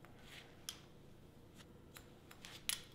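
Scissors snip through hair while cutting a bob haircut, a few sharp crisp snips spaced apart over a quiet background, the last one loudest and close.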